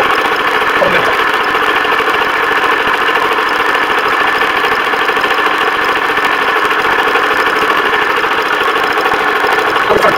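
A compressor motor for filling a PCP air rifle, used with the Umarex Gauntlet .22, runs loud and steady with a constant mechanical drone and no change in pitch for about ten seconds.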